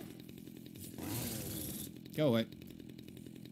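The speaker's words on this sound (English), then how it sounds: "And grab the chainsaw." A chainsaw in the video game Dead Rising 2 gives a rough, buzzing roar for about a second. A short spoken voice follows, over a quiet game background.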